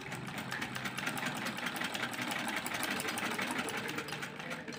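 Sewing machine stitching the corner of a dupatta, a quiet, steady rapid mechanical whir-and-tick running continuously without pauses.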